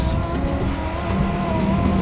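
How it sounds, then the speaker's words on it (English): Tourist cars heading out to the desert on a Dubai safari, a steady close road roar of tyres and engines rolling along with no voices. "These are all cars that are going to the desert, all tourists too."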